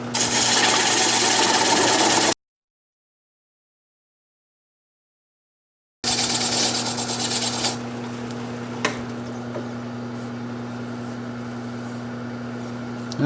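A wood lathe turns a small cherry live-edge bowl with a 3/8 inch standard grind bowl gouge, giving a loud steady motor hum with scraping cut noise, then a few seconds of silence and a steady hum again.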